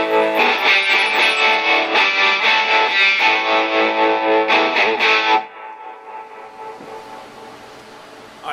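Electric guitar played through a Vox AC30C2 amplifier with a gritty, driven tone: sustained chords ring loud and steady for about five seconds, then cut off abruptly, leaving a faint hiss and decay with no one talking.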